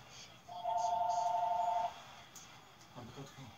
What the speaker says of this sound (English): William, somebody pick up the phone